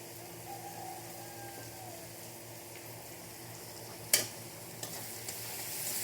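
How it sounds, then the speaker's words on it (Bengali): Spice mixture stirred in a little oil for rajma, with kasuri methi added, giving a low steady sizzle and soft scraping, plus a sharp clink of utensil near the middle and a few lighter taps later. "একটু সামান্য তেল দিয়ে ভালো করে মিলিয়ে নিচ্ছি"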